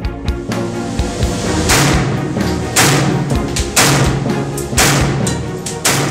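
Repeated bursts of assault rifle fire inside a dust-filled test chamber, loud, close and reverberant, with several sharp shots spaced through the stretch over a steady rumbling background.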